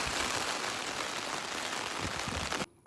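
Heavy rain pours down steadily as a dense, loud, continuous hiss, broken only by a sudden drop near the end.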